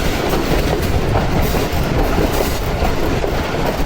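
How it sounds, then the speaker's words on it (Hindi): A train running on the main line into Shahdara station gives a steady, loud rumble with a continuous clickety-clack of wheels on the rails throughout. "ये हमारी ट्रेन शादरा में एंटर हो चुकी है और उसके साथ आएगी एक और ब्रांच लाइन।"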